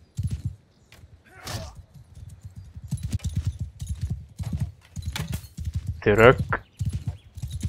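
Horse hooves clip-clopping in the video game Mount & Blade, a steady rhythmic trot of repeated thuds running throughout, with someone talking over it and a brief whinny-like burst near the end.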